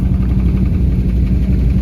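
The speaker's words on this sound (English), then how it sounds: "The exhaust needs a little bit of work too, but you can hear it idle." A 1979 Ford F-150 SuperCab pickup engine idles loudly and steadily up close through an exhaust needing work, a deep rumbling chug with a constant low throb and no voices.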